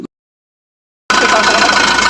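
An Isuzu Traviz 2JE1 diesel engine bursts into a loud, steady running rumble close by after a second of silence.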